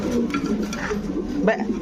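Fancy pigeons coo at a farm, a soft, low, rolling murmur running steadily throughout, with faint background clatter and a voice nearby.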